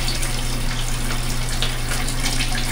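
Water runs steadily from a household shower, a continuous close hiss with a low hum underneath, no talking.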